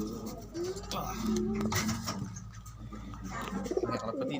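Young pigeons coo softly in a loft in Mabalacat, Pampanga, with low rolling calls that are faint and mixed with background noise as a person speaks nearby.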